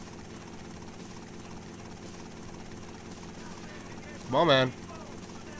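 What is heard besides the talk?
helicopter in video game Vice City Stories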